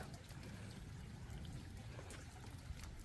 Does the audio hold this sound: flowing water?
yes